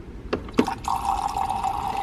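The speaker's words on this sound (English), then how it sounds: "I just add the water." Water poured into a cup holding two shots of espresso, with a couple of clinks, then a steady close stream filling the cup.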